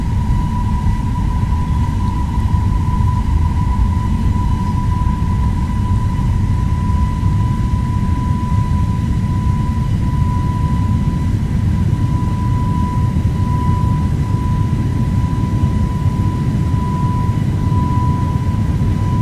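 An airliner's jet engines at takeoff thrust in a flight simulator give a loud, steady roar with a constant whine held throughout, unbroken and without talk.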